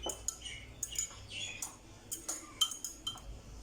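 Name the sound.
fork whisking liquid in a bowl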